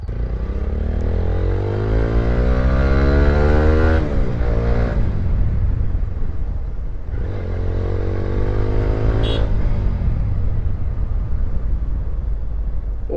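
Motorcycle on a test ride, engine droning close with rising and falling revs as it accelerates and shifts, wind and road clatter layered over a steady loud rumble.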